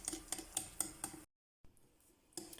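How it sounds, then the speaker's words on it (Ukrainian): Pancake batter made with water being whisked in a bowl after vegetable oil is poured in: rapid rhythmic clinks of a whisk or spoon against the bowl, a brief silent gap, then quieter stirring resuming. "Вливаємо рослинну олію і знову ж таки перемішуємо все до однорідності."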